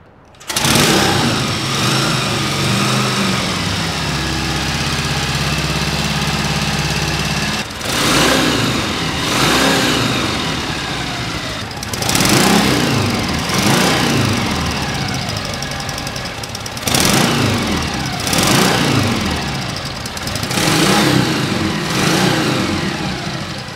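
A shed-built 1952 Triumph bobber motorcycle fires up with a sharp start, settles into a loud, lumpy idle, then revs hard in several rising bursts between idle stretches, close and alone.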